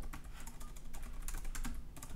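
Fast typing on a computer keyboard while working in a code editor, a quick run of light clicking keystrokes, close and steady, with no talking.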